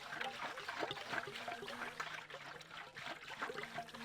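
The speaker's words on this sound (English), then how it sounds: "Very satisfying sound with the fuel pouring" Fuel pours from a container into a car's tank in the video game My Summer Car, a soft continuous trickle and gurgle of liquid, quiet and steady.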